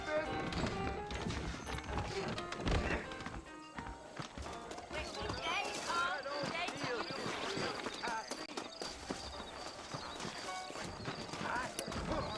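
Hooves clip-clop steadily on hard ground in the Red Dead Redemption video game, with occasional horse snorts and busy background noise throughout.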